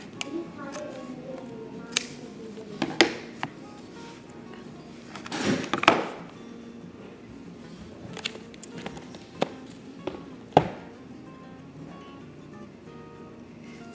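Scissors snip across fabric ribbon being cut for a DIY Mickey Mouse hair bow, a few sharp close cuts spread irregularly over a quiet room with faint handling noise between them.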